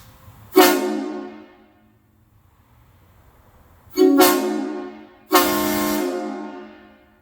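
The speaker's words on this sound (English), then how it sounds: "We'll give you one last honk on the air horns" Three loud, deep train-style air horn blasts from a Peterbilt truck ring out, one short then a pause, followed by two longer blasts close together, each fading with echo.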